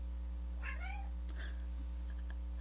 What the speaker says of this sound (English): This is my cat Molly